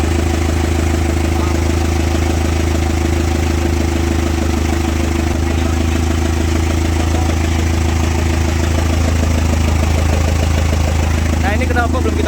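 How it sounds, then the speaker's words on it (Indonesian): A Chevrolet Captiva diesel idles steadily after two years unused, a close, loud, continuous low rumble with a rough clattering pulse, unchanging throughout. "kita biarkan dulu mesinnya nyala 10 atau 15 menit"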